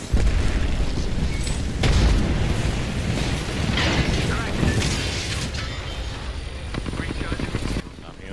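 A cluster weapon fires in a video game, setting off a run of loud, overlapping booms and blasts at irregular intervals while players talk over the noise.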